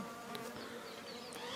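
Honeybees buzz thickly around a large, pollen-laden honeycomb during a hive rescue, a dense, steady swarm drone close by with no voices.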